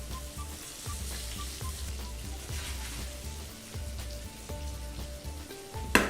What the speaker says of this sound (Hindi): थोड़ी देर भूनेंगे ताकि साइड से जो है वो ठीक से कलर आ जाए